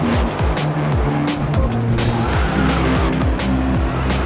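BMW M8 GTE race car sliding sideways at Brands Hatch, its tyres squealing in repeated rising and falling bands over a loud, steady engine roar heard from on board.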